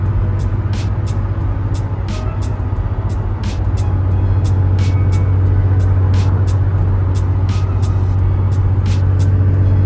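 Infiniti G35 car driving, with a loud steady low engine drone and a regular series of sharp ticking clicks over the top throughout.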